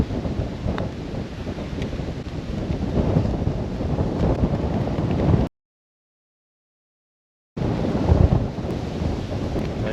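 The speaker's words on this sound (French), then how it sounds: "Le vent, même pour le chipping, on perd l'équilibre, c'est compliqué." Strong wind buffets the microphone on an Indian Ocean golf course, a steady, loud, low rumbling roar that cuts out to complete silence for about two seconds before returning just as hard.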